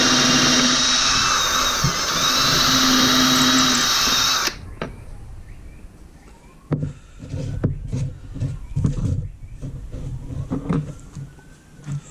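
A power drill whines loudly and steadily for several seconds while boring holes into a wooden Pembroke Welsh Corgi carving, then stops, followed by scattered knocks and handling sounds.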